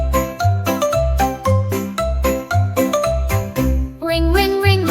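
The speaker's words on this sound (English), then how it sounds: "Ring, ring, ring, my bell so sweet." A bright, tinkling bell melody in a toddler nursery rhyme song about riding a bicycle, ringing in repeated chimes over a steady bouncy bass beat, loud and close, ending with a rising jingly flourish.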